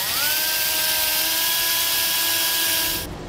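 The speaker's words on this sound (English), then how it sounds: "come back with a wire brush and a scraper, and while we have all this room, clean this up to good bare metal" A powered wire brush spins against trailer metal to clean it down to bare surface, a loud, steady whining drone with a constant pitch that cuts off near the end.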